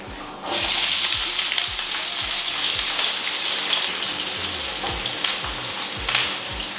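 Onions and green bell pepper sizzle and crackle in hot oil, with a soft burst as they hit the pan and steady frying after, plus occasional stirring clinks.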